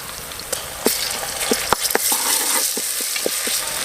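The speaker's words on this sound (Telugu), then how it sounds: "మంచిగా పచ్చి వాసన పోయేంత వరకు నూనెలో గోలించుకోవాలి" Ginger garlic paste frying in oil for a village-style mutton curry: a dense, close sizzle and hiss with scattered sharp pops and a few stirring scrapes, and no talk.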